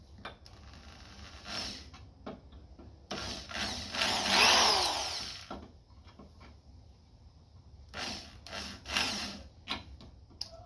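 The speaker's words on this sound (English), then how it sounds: "I'm going to give it a bit of a drill and see what happens" A power drill drilling into a bolt whirs in a few bursts, loudest in a long grinding run near the middle, with clicks and tool handling between.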